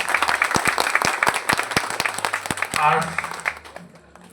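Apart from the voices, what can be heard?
audience applause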